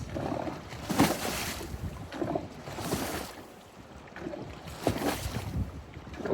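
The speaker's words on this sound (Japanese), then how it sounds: "今日の猪苗代、風速3メーター予報だったけど、まあまあ荒れてる" Gusty wind buffeting the microphone on a bass boat out on rough Lake Inawashiro, with waves slapping and splashing against the hull in repeated surges, swelling and fading over several seconds.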